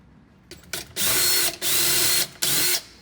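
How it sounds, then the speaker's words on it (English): A power drill boring a pilot hole under a kitchen cabinet while installing LED lighting, running in three loud, steady bursts with brief pauses between them, close by. "Okay, so the pilot hole's drilled"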